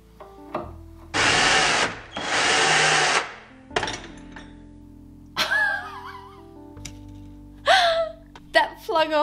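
A power drill whirs in two long bursts early on during a furniture makeover, followed by shorter clicks and handling noises, with a voice speaking in between.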